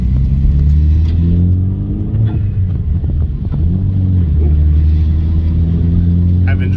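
Turbocharged Chevrolet Cobalt SS with a manual gearbox drives along, its engine droning and rising through revs with a deep, rumbling tone, loud and close throughout.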